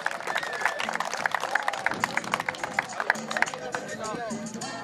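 Crowd clapping and cheering in applause for an award winner at a community event in Zaachila, Oaxaca, with dense rhythmic claps and loud cheers over a murmur of crowd noise throughout.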